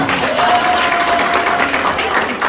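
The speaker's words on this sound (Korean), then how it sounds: "박수 한번 주세요" A church congregation applauds at a prayer training session, steady dense clapping filling the hall for a couple of seconds at close, even loudness.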